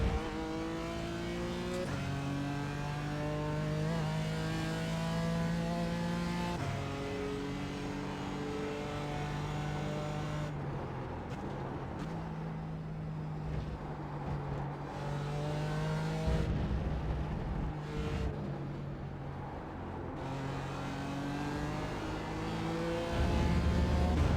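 BMW M4 race car engine in iRacing, loud and continuous, rising and falling as gears shift and the revs climb and drop, close and steady with no speech over it.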